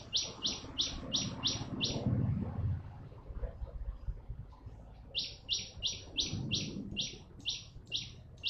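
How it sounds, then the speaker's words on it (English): Birds chirp in quick bursts of repeated high tweets, a group of calls, a pause, then another run, with a soft low murmur and faint coo-like sounds beneath, moderately close and gentle. "A bird lullaby."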